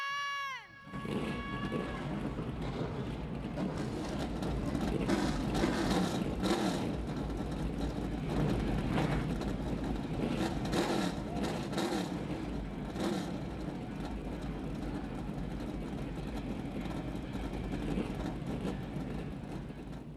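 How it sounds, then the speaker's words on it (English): A field of race car engines fires up at once at the Madhouse short track for the Cookout Madhouse Classic, settling into a loud, continuous rumble with rising and falling revs throughout. "Engines are fired here at the Madhouse"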